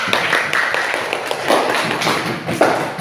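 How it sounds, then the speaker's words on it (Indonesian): Applause from a classroom audience after a group presentation during a teacher certification performance test, a steady dense patter of clapping hands throughout, fairly close and loud. "Kita beri aplaus pada mereka."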